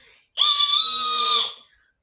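A voice imitates a mermaid's loud, piercing shriek: one sustained, high-pitched scream lasting about a second, close and alone.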